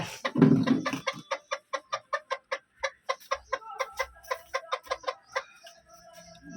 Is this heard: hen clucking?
yes